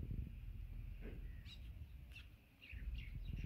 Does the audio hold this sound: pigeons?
yes